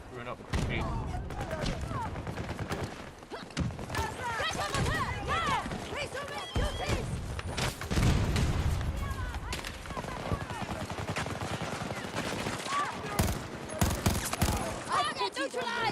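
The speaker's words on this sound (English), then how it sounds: "Like that was 6 shots right there. 2 bursts." In Battlefield 2042 on PS5, loud gunfire bursts sound close among other sharp shots and impacts. Someone talks over much of the action.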